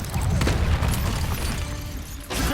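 A Confringo fire spell going off in a Harry Potter video game, a loud rumbling blast that fades over a couple of seconds before another burst starts at the end.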